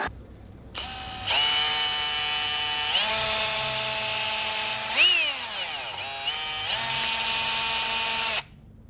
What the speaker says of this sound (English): Okay, so I did find a drill bit. Let's see what happens here. Drill, baby, drill.